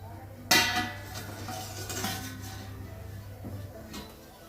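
A covering dish is lifted off a pan of cooking mixed dal chilla: a sharp clattering clink at the start, then a few softer scrapes and knocks of crockery over a low steady hum.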